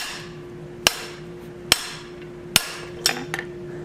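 Blacksmith's hammer striking hot steel while forging an oak leaf curtain tie-back: four sharp, evenly spaced ringing blows, close and loud, followed by a couple of lighter rebound taps.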